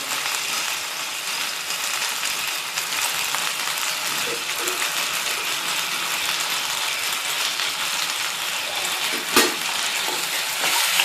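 Chicken chilli sautéing in a pan with vinegar added, a constant loud sizzle with occasional stirring scrapes and a brief clack, close and unbroken.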